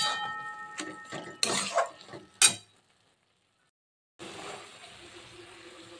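A bowl is rinsed while cooking a Bengali spinach vegetable dish. A few clinks of dishware come first, then a brief hush, then a steady trickle of spiced water being poured.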